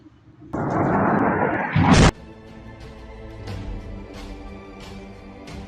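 A massive blast from a strike on Iran's highest bridge, linking Tehran and Karaj, erupts as a loud roaring rush that cuts off abruptly, followed by a lower rumbling tail.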